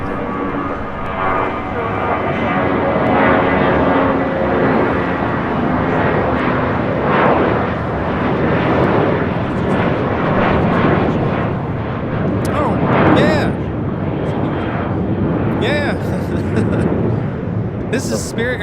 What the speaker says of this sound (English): This is Spirit Airlines 591 taking off to Houston Intercontinental on an A319.